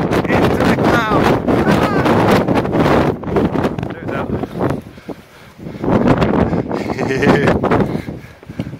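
Strong wind buffets a handheld phone microphone on a cliff top at the Chasms on the Isle of Man, a loud continuous rumbling roar with gusts rising and falling, and someone talking over it.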